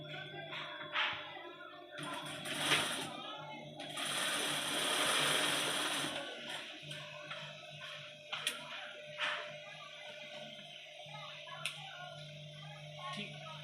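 A sewing machine stitches a pocket onto a garment, giving short mechanical clattering runs and a longer burst in the middle, with scattered ticks and clicks between, fairly faint and close.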